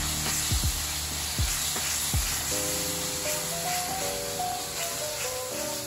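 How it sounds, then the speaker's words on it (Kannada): Masala powder for rajma gravy frying in hot oil in a pan, a steady close sizzle with a few soft stirring knocks, no talking. "ಸ್ವಲ್ಪ ಅದು ಎಣ್ಣೆಲಿ ಫ್ರೈ ಆಗಬೇಕು ಮಸಾಲೆ ಪೌಡರ್ ಎಲ್ಲ"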